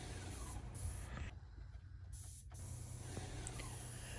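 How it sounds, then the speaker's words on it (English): A paint sprayer mists wood treatment against beetles in a crawl space, a soft, steady hiss at a distance that stops briefly partway through and then resumes. "The particular method we're using to apply it here is a paint sprayer."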